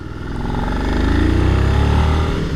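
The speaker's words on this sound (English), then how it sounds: "I like this engine." Suzuki SV650 motorcycle engine under way, a close throaty drone that rises in pitch as it accelerates through a gear, loud and steady with no speech over it.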